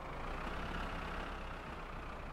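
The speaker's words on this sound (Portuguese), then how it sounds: "Bom, vou parar o trator aqui" Steady low rumble of an idling tractor engine in the video game My Summer Car, a continuous faint drone with no talk.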